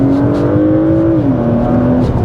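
A Porsche Macan GTS SUV engine revving in Sports Plus mode with its PDK gearbox, a loud, close, steady whine that drops in pitch partway through, as if shifting gear, with no talking.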